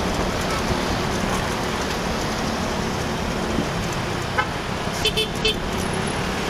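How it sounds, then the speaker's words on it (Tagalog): Congested traffic on Commonwealth Avenue, a busy city road, makes a constant loud roar of engines, and several short car horn toots come near the end with no speech over them. "Yun, nagkakabuhol-buhol na yung traffic."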